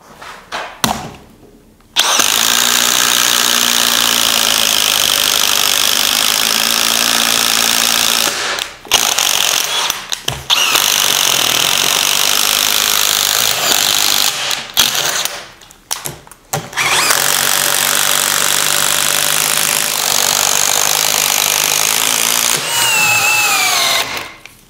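An impact driver bores into wood with a spade bit in several long, loud, close bursts of rapid hammering rattle, separated by short pauses of near silence.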